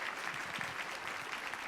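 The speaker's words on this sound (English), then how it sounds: "let's give a round of applause to all 3 of our students" An audience applauds three student innovators at an education tribute event, with dense, even clapping that fills the room throughout the short stretch.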